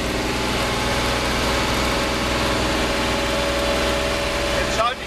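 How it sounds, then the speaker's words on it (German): Engine of a Magirus truck with an unsynchronized gearbox running steadily and loudly during a downshift into fourth, a constant mid-low drone with a brief rise near the end. "So, ich schalte jetzt zurück in den vierten."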